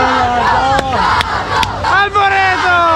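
Dense crowd noise from a packed town square in Belluno, with many voices blending into a continuous loud hubbub and occasional shouts rising above it.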